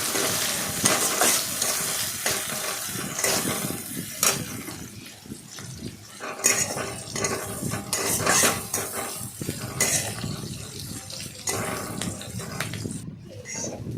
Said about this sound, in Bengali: তেল দেওয়ার পরে পেঁয়াজটাকে ভেজে নিলাম।